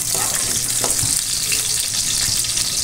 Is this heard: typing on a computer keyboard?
no